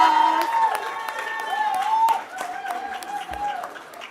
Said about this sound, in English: Give Oxalia a round of applause.